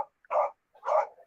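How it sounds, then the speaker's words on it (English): Two short, separate dog barks sound from nearby at moderate loudness, with a brief gap of quiet between them. "Those are Dippy's dogs barking."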